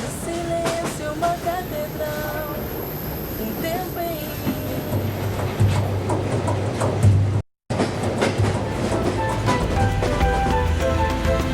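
A train rumbles along the rails in Brazil with rhythmic clicking and clattering, loud and close, broken by a momentary gap, with voices talking over it.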